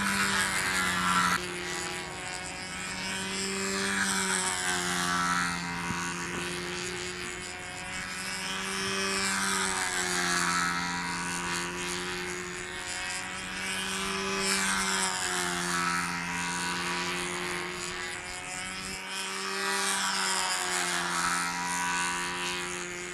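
A model airplane in PT-19/PT-22 style with a double open cockpit flies at a national model aviation contest. Its engine hums steadily for the whole stretch, its pitch rising and falling as it passes back and forth overhead, with no talking.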